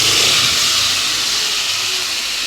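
Loud, steady hissing sizzle of small spinach greens dropped into hot oil in a clay pot, a dense continuous crackle with no voices.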